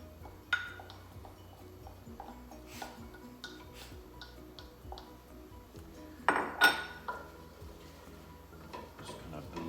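A fork stirs through a pot of onions and filling for stuffed cabbage, making soft scrapes and light metallic clinks at an irregular pace, with a brief louder clatter partway through.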